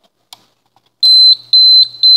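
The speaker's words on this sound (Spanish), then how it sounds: "Ese es el sonido que hace cuando el detector detecta gas o monóxido de carbono." Sharp high-pitched electronic beeps from a gas and carbon monoxide detector alarm, a few short pulses in a steady pattern after a couple of faint clicks, loud and close.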